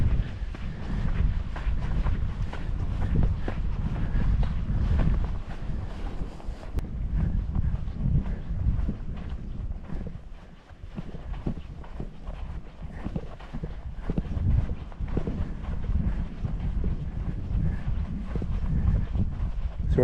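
Wind buffets a microphone on the sandy Alkali Flat Trail in White Sands National Park, New Mexico, a loud, continuous low rumble that rises and falls in gusts for the whole stretch, with no one talking.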